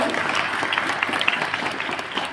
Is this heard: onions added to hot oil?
no